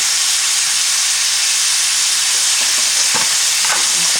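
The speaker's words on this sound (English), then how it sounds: "Let that sear real good." A pot roast sears in an Instant Pot with a loud, constant sizzling hiss that fills the whole stretch, with a few faint scrapes near the end.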